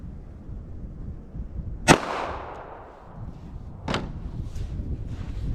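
.380 ACP pocket pistol firing a Hornady XTP round into a block of clear ballistic gel behind sweatshirt fabric and fiberboard. One sharp, loud report cracks out, and a second, softer bang follows about two seconds later over quiet outdoor background.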